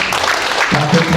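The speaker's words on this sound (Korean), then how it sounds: "큰 박수로 맞이해 주시기 바랍니다" Audience applause welcoming a former announcer and lawmaker onto a forum stage, a loud, dense burst of clapping with voices mixed in toward the end.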